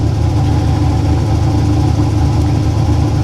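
A C5 Corvette engine idles roughly with its check engine light flashing, a loud, close, continuous low rumble with a steady droning throb and no voices.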